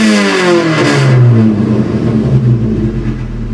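Car engine revving loudly and close after a modification, with the exhaust wire left loose: one rising rev, then settling into a steady rough idle, with no voices.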